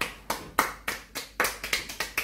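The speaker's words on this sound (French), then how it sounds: "on peut s'applaudir" A few players clapping for themselves after a jelly bean challenge, about nine sharp close hand claps in a loose, uneven rhythm.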